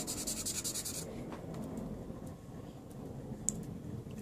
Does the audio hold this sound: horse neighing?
no